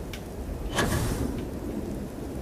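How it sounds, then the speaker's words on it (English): Steady rain pours on a planet in the Starfield video game while a rumble of thunder swells and fades near the start, with no talking. "ooh, it's raining."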